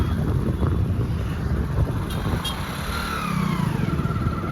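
A motorcycle being ridden with passengers aboard gives a continuous close engine drone mixed with heavy wind rush across the microphone, steady throughout with slight rises and no clear talk.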